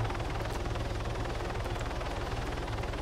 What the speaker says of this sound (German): Erstmal bin ich gerade im Heli unterwegs